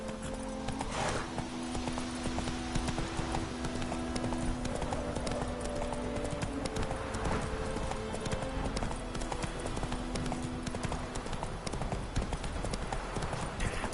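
Roach, a horse in the video game The Witcher 3, gallops steadily throughout, a continuous fast clip-clop of hooves with faint tonal game ambience underneath.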